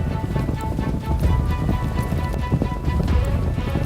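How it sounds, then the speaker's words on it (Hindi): Horses gallop out of a forest into an open field, hooves pounding in a dense, steady drumming of clip-clops, loud and close without pause. "घोड़े भागते भागते जंगल से बाहर एक खुले मैदान में आ गए।"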